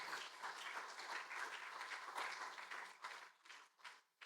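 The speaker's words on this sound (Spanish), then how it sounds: "¿Se merece un aplauso, Señor, o no?" A church congregation claps during a sermon, a soft, fairly distant patter of hands that thins out toward the end.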